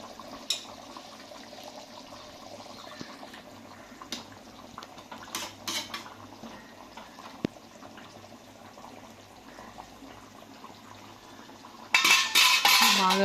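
Nellore-style fish curry (chepala pulusu) being stirred in a pan after fish pieces go in: soft wet sloshing with scattered utensil clinks against the pan, close and fairly quiet, ending in a louder burst of scraping and clatter, with no talking.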